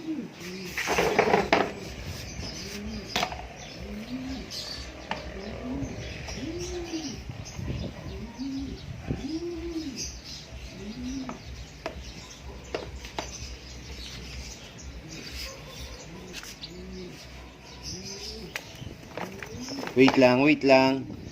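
Repeated soft clucking and cooing bird calls close by, with a person talking over much of it and brief rustling handling noises.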